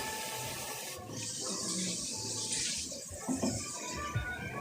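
Tap water runs steadily into a container in a home kitchen while preparing a meatless dish, a continuous broadband rush starting after a second and lasting throughout, with clinks and kitchen noises underneath.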